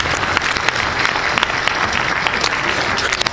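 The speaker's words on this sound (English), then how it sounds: "So please give those people a nice round of applause for their song." A school audience claps at a seventh-grade middle school band's winter concert. The applause is loud and close, with sharp individual claps standing out of a dense, continuous patter that lasts throughout.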